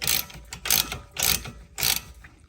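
A ratchet cranks a ball joint separator on the suspension of a 2007 Porsche 997 Turbo, giving four quick bursts of metallic clicking with short pauses between them, close and clear.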